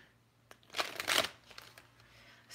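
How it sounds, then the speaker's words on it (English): Tarot cards shuffled by hand, giving a few quick riffling, papery bursts close up that swell and fade over a quiet background. "Let me give a few more shuffles here."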